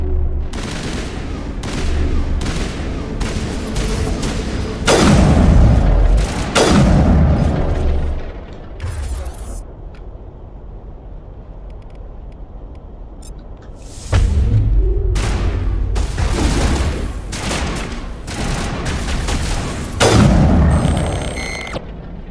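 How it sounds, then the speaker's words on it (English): Heavy, booming gunfire in Mass Effect Legendary Edition, including a point-blank sniper rifle shot: loud, close blasts in several clusters separated by quieter lulls, with little talk. "point-blank sniper rifle shot is probably a bit overkill"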